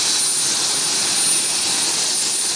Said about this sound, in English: that helicopter was much, much stronger